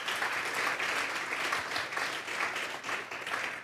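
A church congregation applauds for the Lord in a dense, steady burst of clapping that fills the room at moderate volume, with no speech over it.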